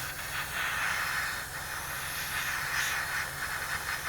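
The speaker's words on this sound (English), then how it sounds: "We're spraying about 2 to 3 inches away from the unit" Steady, even hiss of an airbrush spraying primer continuously for several seconds from about 2 to 3 inches away, fairly soft and close, with no talking.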